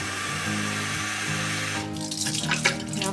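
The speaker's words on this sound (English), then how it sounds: "And then you just want to rinse it out really well." Water from a kitchen tap runs into an empty plastic soy sauce bottle being rinsed out, a steady hiss first, then splashing and gurgling as the bottle fills and is shaken. Close up with no talking.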